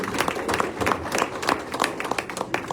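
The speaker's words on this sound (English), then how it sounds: "Give him a round of applause, huh?" Audience applause at a Patriot meetup and caucus training, a steady patter of many hands clapping close by, fairly loud and continuous, with scattered voices in the room.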